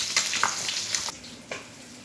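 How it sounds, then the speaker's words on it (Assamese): Fish fries in a pan with a close, bright sizzle and crackle, including a few sharper spits over a short stretch, and no one speaks. "মই ইফালে মাছখিনি ফ্ৰাই কৰি আছোঁ।"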